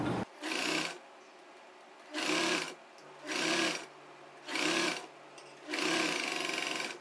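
A sewing machine stitches a churidar neckline in five separate bursts of fast, whirring needle chatter, close and clear, with short quiet pauses between runs.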